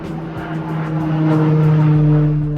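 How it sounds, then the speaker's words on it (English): An airplane circles overhead outdoors near a lake, giving a continuous droning engine hum that swells slightly louder over a few seconds with no talking. "the plane above us is circling, I think, looking at it"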